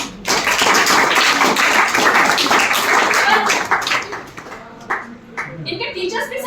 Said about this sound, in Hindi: बच्चों के लिए जोरदार तालियां।